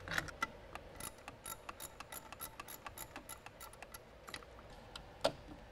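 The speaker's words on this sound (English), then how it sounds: "So I've got a 10 millimeter wrench, I'm going to go ahead and start to remove that bolt right now to get that unplugged." A 10 mm wrench ratchets a bolt off the hybrid inverter's battery cable, producing a steady series of quiet, evenly spaced clicks close by, with one sharper click near the end.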